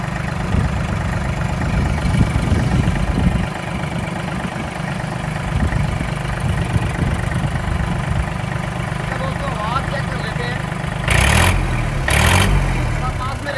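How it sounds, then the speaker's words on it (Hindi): A John Deere 3036 EN tractor from 2023 idles steadily at close range, a constant low mechanical rumble running throughout, with a few brief louder bursts near the end. "मैं एक बार टर्निंग रेडियस ट्रैक्टर का चेक करा दूं आपको थोड़ा सा"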